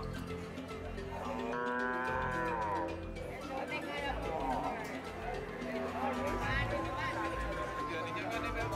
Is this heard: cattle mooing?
yes